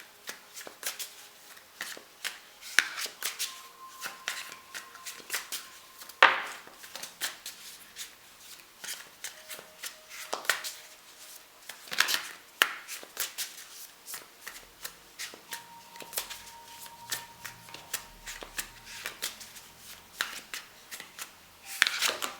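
Tarot cards are shuffled by hand in repeated riffling bursts and soft slaps, close and fairly quiet, stretching on with short pauses between passes.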